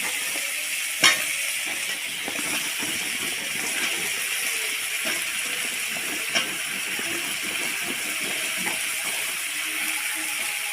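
Ridge gourd fries in a pan with turmeric and spices, giving a continuous low sizzle broken by occasional clicks and scrapes of a spatula.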